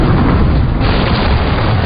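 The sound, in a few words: explosion from explosion welding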